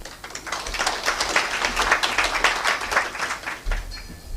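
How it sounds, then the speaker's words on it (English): A short burst of clapping from a small group, steady and moderately loud, fading slightly near the end. "A round of applause to Ambassador Ali"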